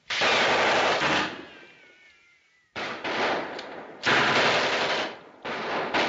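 Machine gun fire from a 1938 film, loud sustained bursts of rapid shots separated by a short pause, with a faint spoken word in between.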